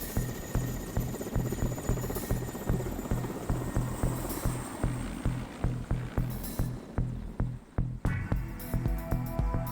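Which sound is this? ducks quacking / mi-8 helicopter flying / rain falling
mi-8 helicopter flying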